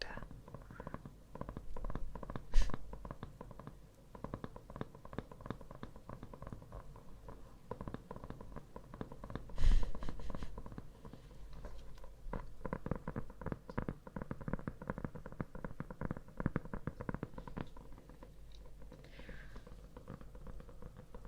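Fingertips tap steadily and close up on surfaces for an ASMR roleplay, a soft, busy patter that runs throughout with a few louder knocks, faintly suggesting rain.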